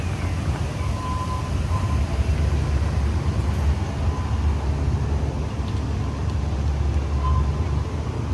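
Blackpool Pleasure Beach park train ride: a steady low rumble of rolling wheels and running gear, continuous and fairly loud throughout, with faint distant tones over the noise.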